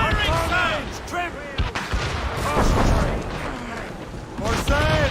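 Naval cannon fire from sailing ships in the Assassin's Creed Rogue video game: deep booming blasts and rumbling broadsides mixed with shouted crew orders and battle noise, loud and dense throughout.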